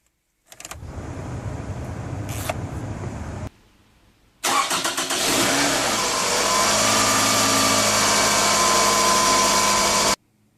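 A car engine cranks and catches after a water pump replacement, briefly cuts out, then restarts and settles into a steady idle with a cooling fan running high.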